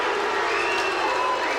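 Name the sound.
boxing crowd cheering after the fight is stopped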